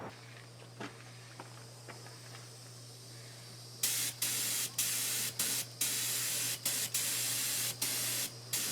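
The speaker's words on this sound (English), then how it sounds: "Squirt a little bit of paint on these here on this trailing edges and let them set up" Paint sprays onto the fabric-covered trailing edges of a Piper Super Cub widebody wing in short hissing bursts, about eight quick passes, close and steady over a low hum.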